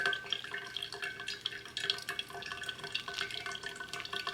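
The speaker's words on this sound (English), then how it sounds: "like actually drip the coffee" Pour-over coffee dripping through a paper filter, a continuous close patter of small drops and trickling liquid with irregular bright splashes, no talking.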